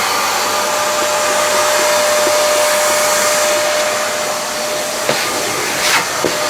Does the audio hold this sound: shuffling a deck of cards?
no